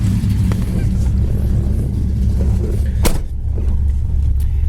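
A 1969 Plymouth Road Runner sits idling after running for several minutes, a loud, steady low rumble that holds throughout with no revving.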